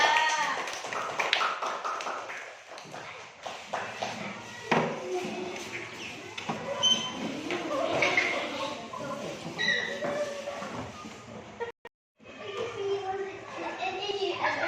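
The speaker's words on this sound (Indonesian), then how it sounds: "tepuk tangan kelompok 3" Elementary-school pupils clap for group 3 after a lesson on toothbrushing, steady tapping applause mixed with children's voices and a teacher talking, fading briefly near the end before resuming.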